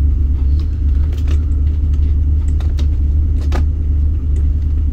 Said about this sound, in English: I'm gonna have to give it some gas